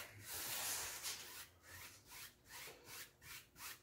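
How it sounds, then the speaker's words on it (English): A paint brush blends wet paint across a canvas in a crisscross motion, making soft, rhythmic brushing strokes that repeat about every half second, close and quiet, with no talking. "Now we want to blend it right here on the canvas."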